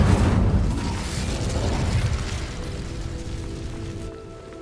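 The Incendio fire spell is cast in Hogwarts Legacy as a loud burst of fiery whoosh and crackle that fades over several seconds into a low residual hum, without talking.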